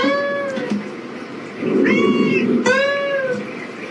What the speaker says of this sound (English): What's with these singing cats?